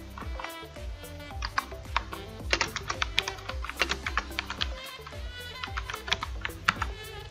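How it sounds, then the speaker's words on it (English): Rapid, irregular clicks of typing on a computer keyboard, close and fairly quiet, with bursts of keystrokes and short pauses. "I'm gonna start typing."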